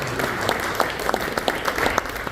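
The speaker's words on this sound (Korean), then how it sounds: "감사의 박수 한번" Guests at a church welcome dinner for a Korean Christian missions assembly clap in thanks, a brisk, close round of applause with distinct individual claps standing out.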